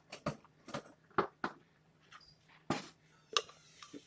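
Glass and hard plastic parts clink and knock together in scattered, close taps and clunks as a blender jar is assembled.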